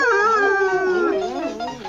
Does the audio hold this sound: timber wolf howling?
yes